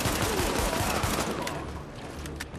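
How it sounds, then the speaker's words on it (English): Pistol fire in the video game Tom Clancy's The Division, a dense, continuous burst of gunfire and impacts over game background noise, loud and close throughout the short moment. "Let me see how this pistol works."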